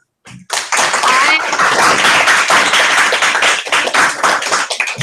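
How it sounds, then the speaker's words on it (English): A dense round of applause from a group of students, loud and close, breaking out suddenly and holding steady for several seconds with a few voices mixed in. "We'll have a round of applause."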